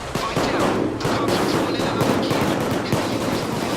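Rapid automatic gunfire in the co-op heist shooter Payday 2, with dense, continuous bursts of shots filling the whole stretch, loud and close.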